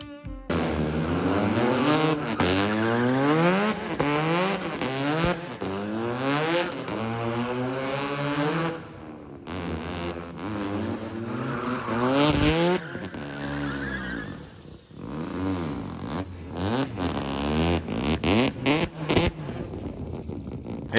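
A race car engine revs hard and drives past in repeated rising and falling sweeps, loud and close, with short pauses between bursts and no speech.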